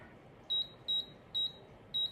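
Four short, evenly spaced electronic beeps from a kitchen cooking appliance as its dial is turned to the jam setting, clear and fairly quiet against a near-silent background.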